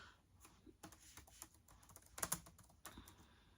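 Fingers type on a computer keyboard close by, a quick uneven run of light clicking keystrokes with a few sharper taps, alone in a quiet room.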